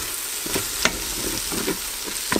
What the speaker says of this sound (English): Stir this on the less setting for about a minute until the raw taste of the spices go away.